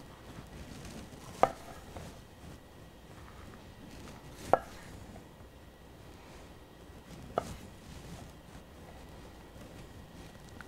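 A knife slicing through jicama on a cutting board, three sharp, widely spaced knocks against a low, steady background hum.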